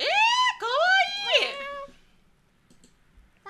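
A person imitates a cat's meow, drawing out several loud, wavering mews up close, then falling quiet with faint clicks afterward.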